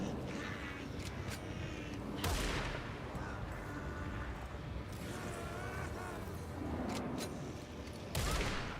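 Enemy rifle gunfire in the horror video game Alan Wake 2, sharp shots cracking out at about two and eight seconds over a dense, rumbling game ambience, with a few lighter clicks and scattered noises between them.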